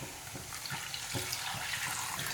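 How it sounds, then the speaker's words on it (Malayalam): Water pours into a pan of spicy fish curry in a home kitchen, a faint, steady splashing hiss with small irregular surges and no voices. "നമുക്കിനി ഇതിലേക്ക് ആവശ്യത്തിന് വെള്ളം ഒഴിച്ചു കൊടുക്കാം."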